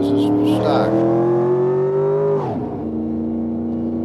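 Stock, non-turbo car engine in a driving game, revving up with a steady rising pitch, then dropping sharply as the throttle lifts and settling to a lower drone, loud and close with speech-like content flagged over it.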